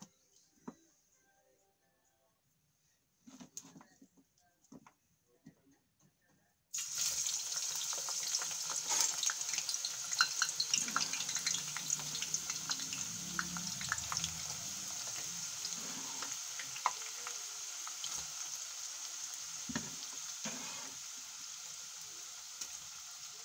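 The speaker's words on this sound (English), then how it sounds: "it's hot enough for me to deep fry the onions" Onions drop into hot oil for deep frying after a few seconds of near silence, then a sustained loud bubbling sizzle with scattered crackles carries on steadily to the end.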